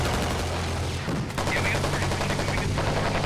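AT-4 rocket launcher fired in a military video game, a loud blast with a sharp burst around the middle amid continuous battle noise and gunfire, with a voice talking faintly underneath.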